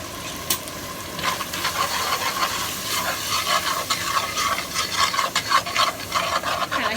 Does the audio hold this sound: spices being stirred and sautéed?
yes